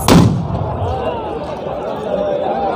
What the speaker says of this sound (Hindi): पटाखे जो हैं इस ओर भी बहुत ज़्यादा फूट रहे हैं